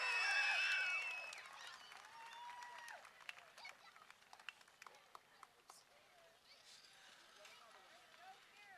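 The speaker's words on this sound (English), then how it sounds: "we will greet the Somerset, Pennsylvania driver with a round of applause" A speedway crowd applauds a race winner on a hot, humid summer night, starting as a distant wash of clapping that fades into scattered individual claps, with a voice talking over it.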